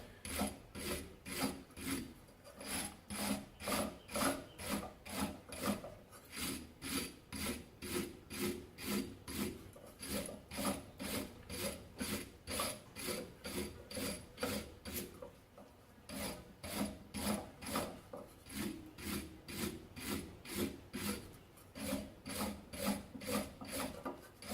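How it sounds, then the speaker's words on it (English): Wire brush scrubbing an exposed brake caliper piston in rapid, steady back-and-forth strokes, a dense rasping scrape repeating continuously and close up, with a short pause midway. "let's give that a quick whiz around with a wire brush as well and see if that's in better condition"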